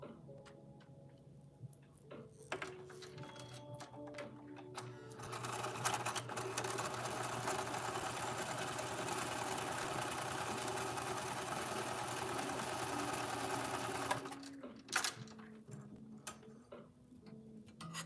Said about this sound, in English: You're not bouncing around with my sewing machine.